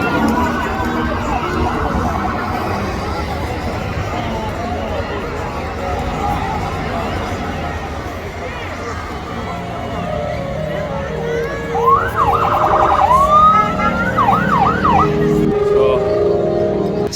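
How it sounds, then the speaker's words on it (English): An ambulance siren wails at a van banger race track, its rising and falling tones emerging late over a loud, constant roar of racing engines and crowd noise. "Quite a sight seeing the ambulance amongst it all."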